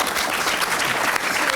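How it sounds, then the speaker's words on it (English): An audience at a community policing and safety panel in Milwaukee applauds steadily, a dense continuous clapping throughout. "Can we have a round of applause, please?"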